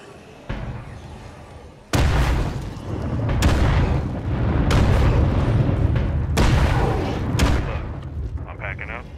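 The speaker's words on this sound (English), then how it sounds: "I need a mortar barrage at my smoke signal" Mortar barrage explosions in State of Decay 2 at Whitney Field, a Nightmare Zone map, land as four loud, heavy booms with rolling rumble between them, close and dominant.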